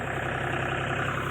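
A tractor engine runs at a steady, loud, close drone with a low rhythmic throb and no change over a brief moment, no voices.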